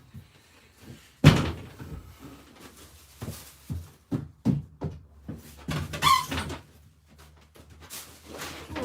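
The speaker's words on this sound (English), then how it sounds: "I'm going to shut this door now as well." A door being shut indoors in a room where seeds sit germinating: a loud slam at the start, then a run of lighter knocks, clunks and a squeak before another solid bang near the end.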